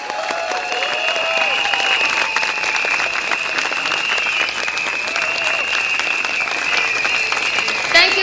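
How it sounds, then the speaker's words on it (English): Sustained applause from a large audience at a political campaign rally in Bukit Gombak, Singapore, dense clapping with a few whoops, while a voice carries faintly over it. "Please give a big round of applause to all our speakers tonight on"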